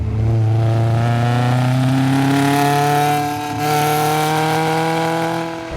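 A Volkswagen Golf MK1 GTI with a 1.8-litre engine revs hard while driving, its loud, close engine note climbing steadily in pitch, easing briefly, then pulling up again, with no talking.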